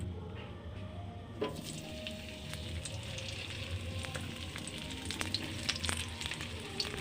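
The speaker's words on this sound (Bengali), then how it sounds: "এদিকে ফুলকপি ভাজা বসিয়ে দিয়েছি।" Cauliflower pieces frying in hot oil in a home kitchen, a steady close crackling sizzle with scattered sharp pops running throughout, no voices.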